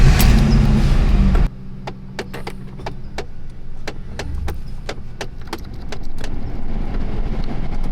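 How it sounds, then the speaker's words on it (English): Mercury Grand Marquis with air conditioning on, a loud start-up burst cutting to a low steady idle hum, with sharp clicks and ticks scattered over it. "Now start the car, turn the AC on,"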